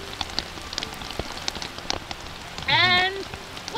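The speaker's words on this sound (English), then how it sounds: "We got stuck in the rain" Rain pours down at a cabin, a dense, close patter of drops on surfaces with a brief voice rising near the end.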